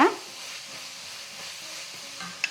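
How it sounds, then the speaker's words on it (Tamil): Onions sautéing in a pan, a soft, steady sizzle heard up close with a faint clink near the end. "வெங்காயம் கொஞ்சம் நல்லா வதங்கிருச்சுங்க."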